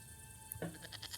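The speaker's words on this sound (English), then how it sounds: "Oh, damn goat." A goat bleats in the video game Broken Sword 5, a short nasal call that rises out of steady background game ambience about halfway through and trails off in a few wavering pulses.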